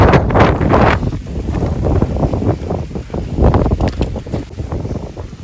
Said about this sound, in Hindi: ऊपर से हवा भी ज़्यादा है